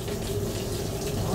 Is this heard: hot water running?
yes